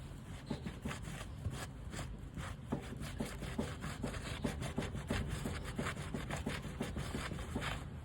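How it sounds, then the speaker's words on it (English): A rag rubs back and forth over an antique oak sideboard during restoration, making a continuous rhythmic scrubbing swish with repeated strokes, close and fairly quiet, with no voices. "then I wipe it off with a rag"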